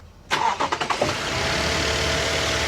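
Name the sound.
pickup truck engine starting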